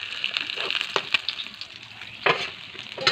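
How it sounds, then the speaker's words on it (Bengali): Fish pieces sputter in hot oil in a wok, with irregular sharp crackles and pops over a soft, continuous sizzle and no talking. "কড়াইতে আমি তেল দিয়েছি, তেলটা গরম হয়ে গেছে। এবার এক এক করে মাছগুলো দিয়ে দিচ্ছি।"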